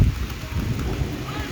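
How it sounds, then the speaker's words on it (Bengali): Rain falling on a rooftop in gusty, stormy weather, a dense continuous patter with wind noise, close and fairly loud, with faint voice underneath. "আর এই যে বৃষ্টি পড়ছে, দেখো দেখো সারা ছাদও ভিজে গেছে।"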